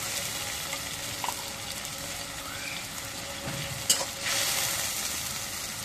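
Chili powder, turmeric, salt and dried fish sauté in a pan with a steady, close sizzle, broken by a few scraping stirs and clinks of a utensil.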